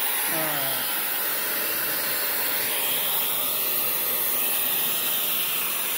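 A hair dryer blows with a steady, loud airy hiss that runs unbroken throughout, with faint voices murmuring beneath it.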